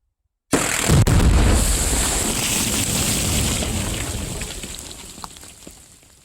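An explosive blast set off in a gold vein at a mine hits at once and then rolls on as a loud, broad roar that slowly fades over several seconds.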